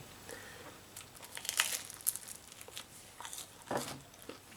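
Crunchy bites into Nando's Hot Peri Peri marinated pork ribs, a few close, crisp crunching and crinkling bursts separated by quiet chewing pauses.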